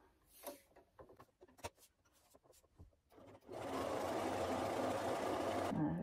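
A sewing machine runs a steady, fast, loud stitching whir for a few seconds while hemming a fabric eye pillow, preceded by quiet handling clicks and rustles.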